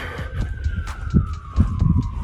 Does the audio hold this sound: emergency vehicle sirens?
yes